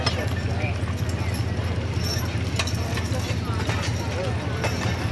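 Draft horses at a fair horse pull, with hooves and harness clatter under a noisy outdoor crowd and a public-address voice, continuous and moderately loud throughout.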